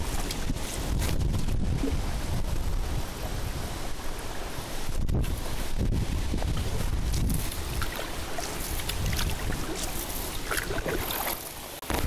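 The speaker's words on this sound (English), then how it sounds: "This may be the sound of wind and the song of the paddle." Wind gusting over open water while a boat is paddled, rough blustery noise with irregular splashing strokes of the paddle, fairly steady and close.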